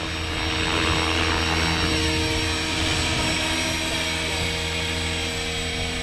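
A T-Rex 500XT radio-controlled helicopter flies nearby with a constant, loud whine of rotor and motor, steady and unbroken throughout, with no voices.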